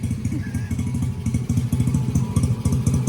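A 1985 Honda ATC70 three-wheeler with an upgraded 125cc engine idles close by, a loud, steady low putter with rapid regular pulses.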